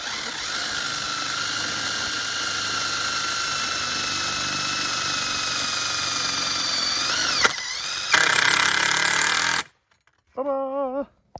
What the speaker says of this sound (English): it takes time for that little drill bit to drill through that 1/8 of an inch